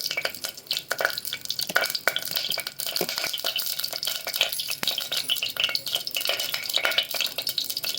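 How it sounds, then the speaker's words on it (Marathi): Curry leaves hit hot oil in a pressure cooker on a gas stove, giving a close, continuous crackling sizzle with scattered sharp pops and spatters throughout, no voices. "तेल गरम झाले त्यात कढीपत्ता टाकते"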